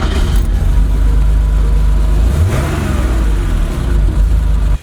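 A Porsche 911 3.2 Carrera engine revs loudly and close, its deep flat-six drone rising and falling through several throttle blips over about five seconds, with no talking.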